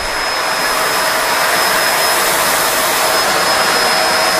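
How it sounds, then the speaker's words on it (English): A Kenmore Allergen Seal Anti Tangle vacuum runs with its brush roll switched off, giving a loud, steady, high-pitched whine close by, with no talking. "The vacuum on without the brush roll turned on."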